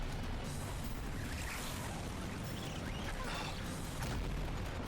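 A plate collapses in the video game Final Fantasy 7 Remake with a deep explosive rumble, a heavy, continuous low roar of debris and blast noise that rolls on for several seconds and surges again near the end.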